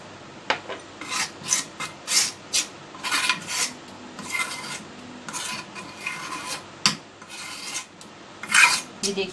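Henna hair-dye paste being stirred and scraped in an iron kadhai until it turns black, a steady series of rasping, gritty strokes about once a second, close and fairly loud with no voices.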